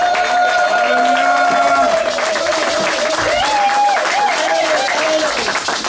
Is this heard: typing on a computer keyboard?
no